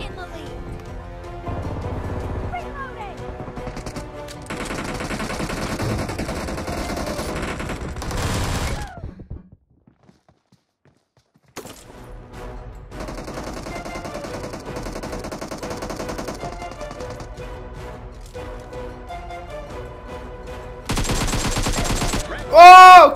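Rapid automatic gunfire rattles through a PUBG team match in long sustained bursts, broken by a brief silent gap, with game sounds and voices mixed in.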